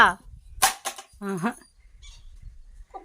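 A village dog barks a few short times while being chased away, with people's voices mixed in close by.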